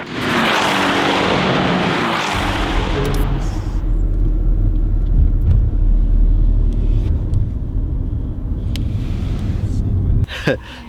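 A Formula 4 race car at the Red Bull Ring in Spielberg. A loud, rushing burst is followed by a sustained low engine rumble, close by and steady.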